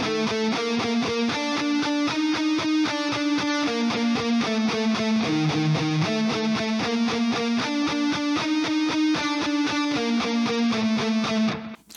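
Heavily distorted electric guitar plays a dark metal triplet riff, rapid even palm-muted chugs with shifting pitched accents repeating over two bars, loud and continuous, then stopping abruptly.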